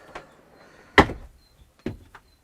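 The swing wall of a Rapido motorhome washroom is unbolted and moved aside: a faint click, then a sharp knock as it shifts, followed by two lighter thuds. Quiet gaps separate each sound.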